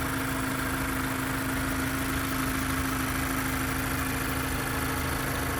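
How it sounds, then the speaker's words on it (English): A 2015 Mazda 3 four-cylinder engine idles steadily and smoothly with a constant low hum, close by, with no voices. "We have a nice and smooth running engine, no odd noises or vibrations."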